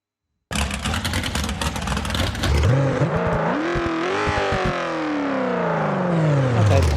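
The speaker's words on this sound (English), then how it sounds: "let's see what this small block Chevy sounds like." A small block Chevy V8 in the BeamNG.drive driving game fires up and revs, climbing and falling in pitch through several sharp rising and dropping sweeps, loud and close with no talking.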